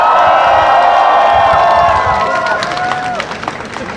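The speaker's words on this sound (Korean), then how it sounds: "박수 한번 부탁드립니다." A crowd of students and graduates at a Seoul National University candlelight rally cheers and claps. Sustained shouting voices fade into scattered applause, with a speaker's voice carrying over the noise.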